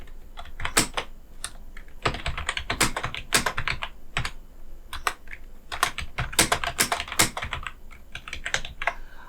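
Brisk, close typing on a computer keyboard while text is entered in Microsoft Word: a steady patter of crisp key clicks in quick runs, with short breaks, lasting the whole time.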